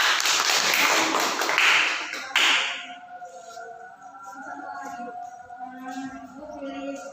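A classroom of students bursts into brief clapping during a teaching-practice lesson on tayamum. It lasts about two seconds, then fades as voices and quiet talk take over.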